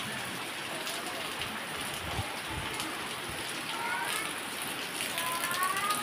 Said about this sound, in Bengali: আর এখন বৃষ্টি।